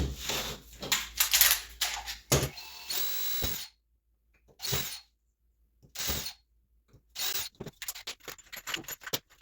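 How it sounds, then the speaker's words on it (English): Several short bursts of drilling holes, each a few seconds or less, separated by pauses, with a louder stretch of tool noise at the start. "and then I'm just going to drill them out"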